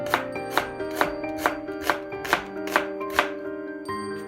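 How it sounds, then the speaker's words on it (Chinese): A knife chopping onions on a board, about nine crisp, evenly spaced cuts in a steady rhythm, close and clear with no talking. "切洋葱，铺底"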